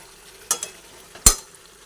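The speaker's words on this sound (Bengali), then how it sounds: "এটা দেওয়ার পরে আবার ভালোভাবে একটু নাড়াচাড়া করে নিই এইভাবে" A spatula stirs eggplant, potato and capsicum curry frying in a pan, giving two short scraping bursts over a faint background sizzle.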